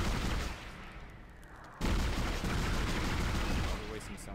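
Gunfire in the sci-fi horror game Dead Space: a dense burst of shots at the start, a short lull, then a loud sharp blast and continued rapid fire, with a voice in places.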